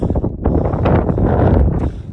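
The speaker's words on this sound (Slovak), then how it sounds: "Strašne fúka, strašná mi je zima" Strong gusting wind buffets the microphone on an exposed mountain hiking trail at Veľký Kriváň, a loud, rumbling roar with rough low-end blasts and no voices.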